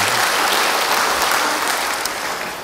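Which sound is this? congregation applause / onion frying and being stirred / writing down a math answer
congregation applause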